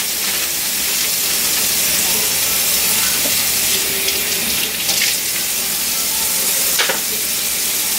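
Carrots tipped into a pot for jollof rice give a steady sizzle and hiss of cooking, a continuous bright wash of frying noise from start to finish with a few faint clinks.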